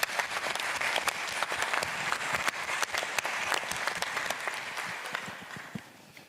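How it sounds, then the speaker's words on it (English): An audience at a lawyers' induction ceremony applauds steadily with dense, sustained clapping throughout, staying loud before tapering off slightly near the end. "Let's give them a round of applause."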